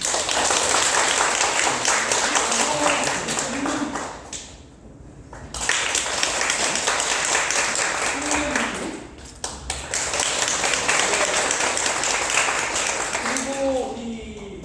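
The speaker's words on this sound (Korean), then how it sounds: "그러니까 더 많이 박수를 보내주세요" Audience applause at a piano ensemble concert in an art hall, steady clapping that fills most of the stretch, briefly dropping away twice before resuming.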